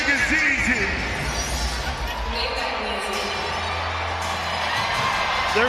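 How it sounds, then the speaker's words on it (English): A Detroit crowd at a fight event cheers and whoops in a continuous loud roar, with someone talking over the din throughout. "There's no crowd like a Detroit crowd"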